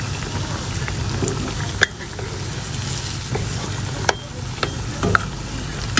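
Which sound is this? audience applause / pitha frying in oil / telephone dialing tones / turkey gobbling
pitha frying in oil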